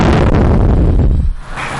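A man blows out his breath forcefully through the mouth as part of a breathing exercise, a loud, rushing blast close to the mic that holds for over a second and then drops away.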